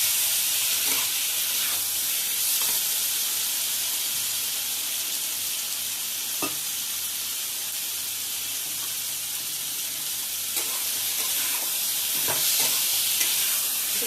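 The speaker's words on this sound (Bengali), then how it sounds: "এটাকে ভালো করে কষতে হবে" Potatoes with chopped tomato and chilli being stir-fried in a pan for aloo dum, giving a steady sizzle with scattered scraping stirs throughout, close and alone with no talk.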